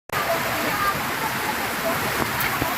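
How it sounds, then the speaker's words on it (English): Heavy rain pours down in a dense, unbroken hiss, loud and close, with faint spatters and drips scattered through the steady downpour. "You can see the rain pouring its heart out and having a good time."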